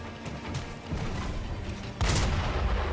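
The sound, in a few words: enemy firing from a roll in the video game Sekiro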